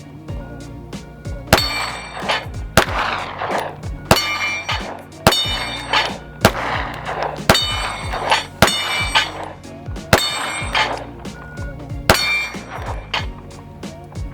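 Pistol shots from a ported-barrel M&P ring steel plates on a dueling tree at 7 yards: about a dozen sharp metallic clangs at a brisk, uneven pace, each followed by a ringing tail, loud and close with no talking.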